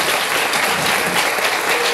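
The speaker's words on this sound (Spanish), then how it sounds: "Este acontecimiento con un fuerte aplauso" Strong audience applause at a formal signing ceremony between FOMILENIO II and the Ministry of Education, a dense steady wash of many hands clapping at close range, with no voices over it.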